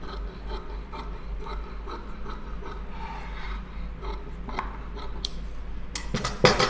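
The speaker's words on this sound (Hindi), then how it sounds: "इस तरीके से हमें पट्टियाँ काट के लेनी है।" Scissors cut straight strips of fabric for a neck design, giving soft repeated snips and rasping rubs close by, with a sharper cluster of cuts near the end.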